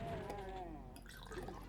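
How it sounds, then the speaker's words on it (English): A shot of liquor poured into a glass, a brief close splashing and dripping trickle of liquid lasting under two seconds, with no one talking. "That's me pouring a shot."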